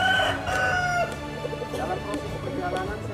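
A rooster gives a loud, near crow at the start, with clucking fowl and other birds continuing fainter in the background at a rooster-testing gathering in Makassar.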